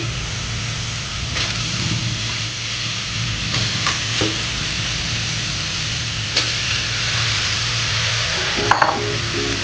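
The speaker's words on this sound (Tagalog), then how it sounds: "Ngayon po ay ilalagay na po natin yung isdang bataway" Bataway fish hits the pan for fish adobo, and a steady, loud sizzle of frying fills the sound throughout, broken by a few soft clinks and scrapes of utensils.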